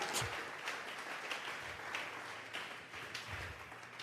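Church congregation gives a rhythmic round of clapping during a Bible doctrine service, a fairly faint, sustained wash of many hands with a few stronger bursts throughout.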